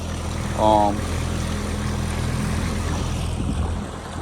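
A 9.9 HP Mercury outboard motor on a Bass Raider boat drones steadily during break-in, with water and wind noise around it, and a brief voice sounds near the start.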